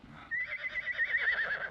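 A horse gives a loud, close whinny that breaks out suddenly and wavers in pitch as it carries on, with no talking over it.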